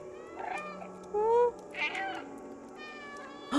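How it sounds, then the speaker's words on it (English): Cat meowing in the video game Stray, several short meows and chirps at close range over faint background tones. "Press B to meow."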